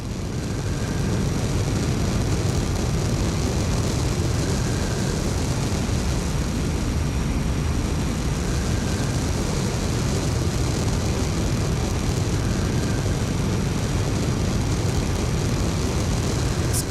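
SR-71 Blackbird jet engines on afterburner in the X-Plane 12 flight simulator, a steady, loud, dense roar that holds unbroken throughout with no talking.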